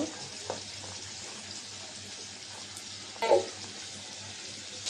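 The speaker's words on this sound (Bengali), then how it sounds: "আলু গোশ একসাথে ভেজে নেব" Chicken and potato frying together with chopped onion in a pan, a quiet steady sizzle with a low hum under it and one brief louder stir or scrape.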